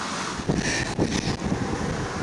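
Wind buffets the microphone in a steady roar with gusty swells, no voices present.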